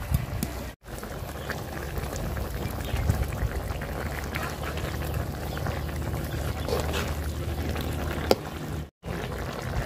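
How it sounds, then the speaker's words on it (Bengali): Fish slides into a pot of boiled potatoes in a home kitchen, bringing a steady bubbling, sizzling wash of liquid that runs throughout with small clinks and stirs. "তো এখন মাছ দিয়ে দিব সবগুলাই"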